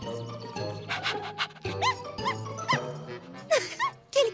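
A cartoon dog barks repeatedly in quick, yappy bursts, mixed with whimpers and high yips, loud and close, over light background music.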